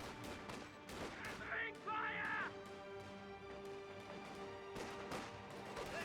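Rapid small-arms gunfire from infantry squads in the Company of Heroes 2 real-time strategy game, crackling bursts layered over a dense battle soundscape with faint ambient clutter and music-like tones running steadily throughout.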